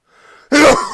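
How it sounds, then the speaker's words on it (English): A single sudden sneeze, close and loud, preceded by a brief quiet intake of breath and ending in a short breathy burst. "That was a slightly surprising sneeze."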